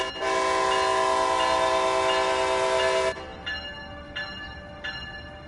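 A train in Train Sim World 4 pulls out of Trenton on the Northeast Corridor toward Boston, sounding a loud, sustained horn blast of about three seconds, followed by several fainter, evenly spaced chimes.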